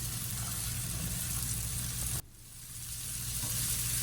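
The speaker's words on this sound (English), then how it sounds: "Now we will add our green beans to the pan." Green beans hitting a hot oiled pan with onions and spices give a steady close hiss that drops away sharply, then slowly swells back up; no voices.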